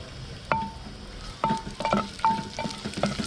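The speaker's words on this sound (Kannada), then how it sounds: "ಇವಾಗ ಇದಕ್ಕೆ ಕಟ್ ಮಾಡಿ ಇಟ್ಕೊಂಡಿರೋ ಈರುಳ್ಳಿ ಹಾಕ್ಕೊಳ್ತಾ ಇದ್ದೀನಿ" Onions, ginger and garlic dropped into hot oil in a clay pot, sizzling with several sharp clanks of a ladle against the pot and bursts of frying, close and moderately loud.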